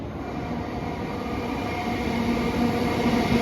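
An Avanti train on a test run passes through Stoke on Trent station with a steady, loud rumble of wheels and motors that grows slightly toward the end.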